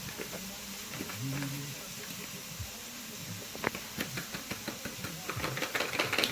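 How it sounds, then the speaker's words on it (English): A knife trims the ends off fresh asparagus on a cutting board, a quick run of sharp, evenly spaced chops close by over faint kitchen background hiss. "make sure to cut off the ends when you get asparagus"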